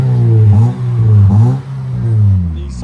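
A 2012 Nissan Versa's 1.8L engine with a Vibrant bottle resonator exhaust revs steadily, a smooth, clean, low drone rising and falling across a few seconds, close and loud.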